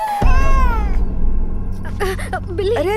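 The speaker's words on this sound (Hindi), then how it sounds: "बिल्ली।" A cat gives one long, clear meow indoors, then a few shorter rising mews follow, loud and close.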